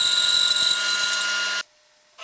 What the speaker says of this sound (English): it's off to the bandsaw, and now I can create the tongue or the actual tenon